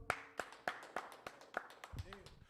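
Sparse, rhythmic hand claps, about six evenly spaced sharp claps, from a small congregation at a Sabbath church service, fairly faint, followed by a voice speaking.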